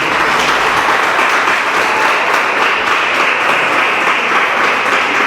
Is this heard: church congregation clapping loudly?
yes